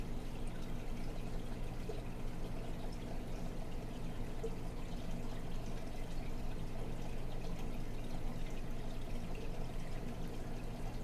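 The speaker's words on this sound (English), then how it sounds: "And now I'm going to apply the vinegar again and see what happens." Vinegar poured from a container onto a sea anemone in a lab demonstration, a steady, faint liquid pour and trickle lasting throughout, quiet and close with no talking.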